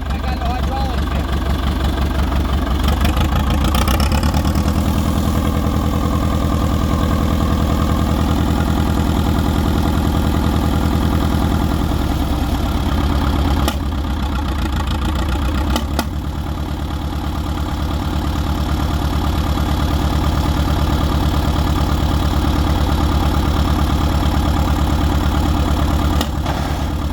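A 1940s International bulldozer engine idles loudly and steadily the whole time with a deep, even rumble and a slight knock, while people talk nearby over it.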